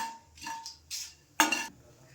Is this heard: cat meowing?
no